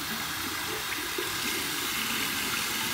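Lukewarm tap water runs in a steady, even rush while a brush is rinsed under it, close and continuous with no talking.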